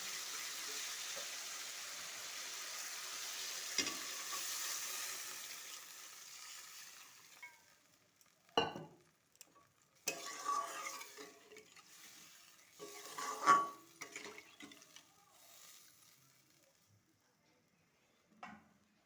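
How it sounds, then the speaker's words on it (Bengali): Curry being sautéed in a pan for a home lunch, a soft sizzle fading out, then scattered scraping and stirring clatters of a spoon against the pan, moderately close with quiet gaps. "এবার একটু ভালো করে কষিয়ে নেব।"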